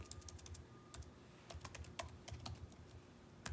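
Quick, uneven clicks of typing on a computer keyboard, quiet and close, with short bursts of keystrokes and brief pauses between them.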